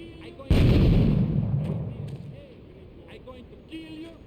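Gunfire in the Grand Theft Auto 3 video game: a sudden loud blast followed by a long rumbling decay, with quieter game sounds and faint talk continuing underneath.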